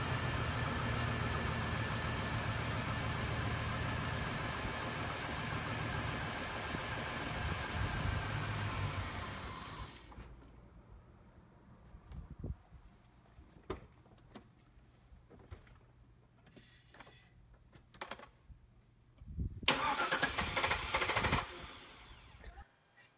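A Chevy Trailblazer with a 5.3L engine runs steadily and loudly for about ten seconds, then cuts out; scattered clicks and short bursts follow as it cranks without fuel, ending in a longer cranking spell.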